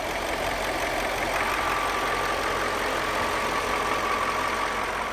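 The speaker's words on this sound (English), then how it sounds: "Now with the S62 fired up, let's take a listen to it." A 2002 BMW E39 M5 with its S62 V8 idles steadily and smoothly, a continuous close, even engine hum with a faint mechanical ticking and no voices, holding constant throughout.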